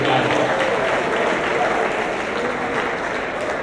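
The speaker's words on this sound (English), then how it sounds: "One more round of applause for Aaron." A crowd at a college athletics banquet gives a sustained, loud round of applause that fills the whole stretch evenly, with a few voices mixed into the clapping.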